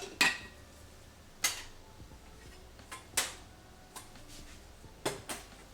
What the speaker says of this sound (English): we're going to need some sort of pot to boil our water in and cook the pasta in